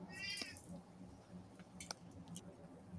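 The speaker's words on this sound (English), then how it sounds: "Meowing very loudly, so I muted myself." Cat meowing in a brief burst near the start, followed by faint clicks and a low, steady background hum.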